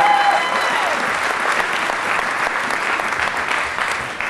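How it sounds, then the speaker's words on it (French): A church congregation at an evangelistic meeting in Rotterdam, 2005, bursts into loud, sustained applause mixed with cheering, filling the hall steadily for several seconds. "Est-ce que nous pouvons acclamer très fort?"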